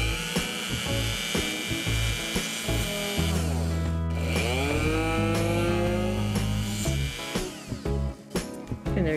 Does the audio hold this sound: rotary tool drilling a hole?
yes